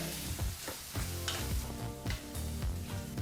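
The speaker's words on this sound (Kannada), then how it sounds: "ಲೋ ಫ್ಲೇಮ್ನಲ್ಲೇ ಎರಡು ನಿಮಿಷಗಳ ಕಾಲ ಇವೆರಡೂ ಪದಾರ್ಥವನ್ನು ಫ್ರೈ ಮಾಡಿಕೊಂಡ್ರೆ ಸಾಕಾಗುತ್ತೆ" Chillies and curry leaves fry in oil over a low flame for mango chitranna, giving a steady close sizzle with spoon scrapes and stirring clinks repeating about every half second.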